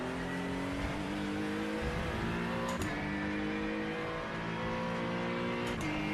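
Race car engine in the iRacing simulator, GT3 or IMSA machinery, revving steadily and loud throughout with harmonic engine whine and brief shifts near the start and end, no talk.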